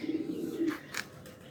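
A Sia pigeon, an alpha male, coos softly in a couple of low murmuring phrases close by, followed by a brief higher chirpy note, with no one talking.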